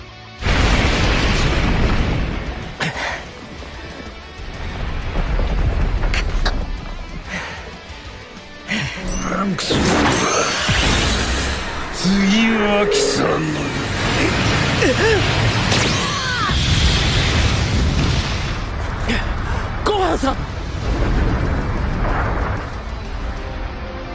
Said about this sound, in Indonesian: Gohan pun langsung muncul dan menembakkan Masenko dan berhasil menyelamatkan Trunks.